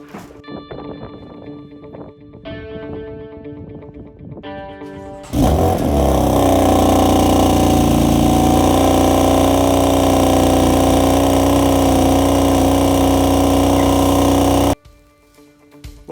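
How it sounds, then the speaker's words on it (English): A BMW M4 engine cold starts loudly after a few seconds of quieter preamble, catching with a sharp rise into a steady, high, droning idle that holds for about nine seconds before cutting back to quiet. "Cold start BMW M4."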